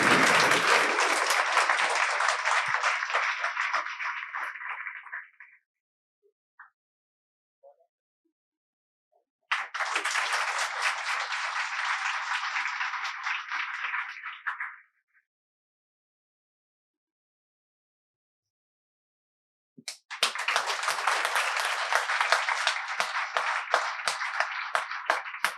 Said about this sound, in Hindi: तो इस बहन के लिए एक बार पुनः जोरदार तालियां।